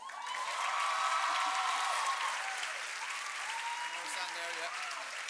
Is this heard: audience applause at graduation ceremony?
yes